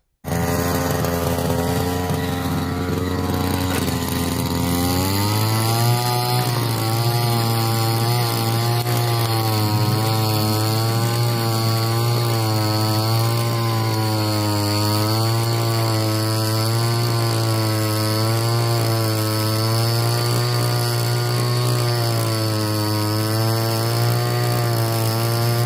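A soil tiller attachment driven by a lawn mower engine runs loud and steady throughout, its droning motor rising in pitch after a few seconds and then holding a constant, buzzing roar.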